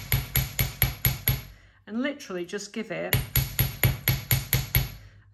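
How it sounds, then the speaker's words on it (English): A small chasing hammer taps a wire jewellery component on a bench block in a steady run of crisp, ringing metallic strikes, about three per second. They pause while someone briefly speaks, then resume. "Pop your little component onto your block and come in with your chasing hammer."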